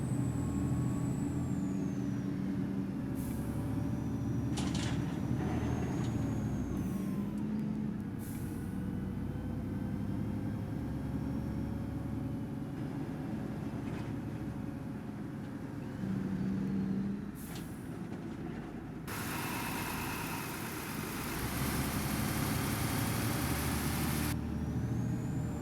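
A Volvo B7TL ALX400 bus in OMSI 2, driven at full throttle on a Yorkshire Counties route: a continuous loud diesel engine drone with shifting revs, plus a sharp hiss of air release near the end.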